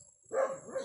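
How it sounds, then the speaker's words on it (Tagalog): A dog barks once or twice, a single rough woof at moderate distance followed by a shorter trailing yap, in a rural village setting. "Nagalit yung aso. Kasi nabibidyo-bidyo kami."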